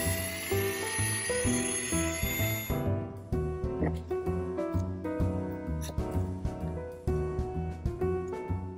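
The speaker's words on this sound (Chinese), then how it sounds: "插好电源线，打开个开关，就可以喺盒上面调校工具嘅转速。" A WORX Maker X rotary tool runs with a high-pitched whine that drops after about three seconds to a lower, steadier hum with repeated pitch changes as the speed is adjusted, close and loud with no talking.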